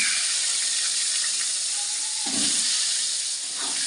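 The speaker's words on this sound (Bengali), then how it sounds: "এবার আলুটা ভেজে নেব। এই যে আলুটা দিয়ে দিলাম।" Potatoes frying in hot oil in a home kitchen, a steady broad hiss of sizzling throughout with a brief low clatter as the pieces go in, close and alone without talk.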